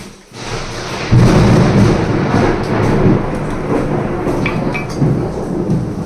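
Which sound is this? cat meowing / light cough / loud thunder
loud thunder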